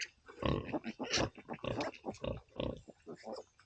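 Pigs on a small farm grunt and snuffle in a steady, busy stream of short, close sounds, with a little talking mixed in.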